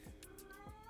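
A talkative indoor cat lets out two short meows in quick succession, faint and close.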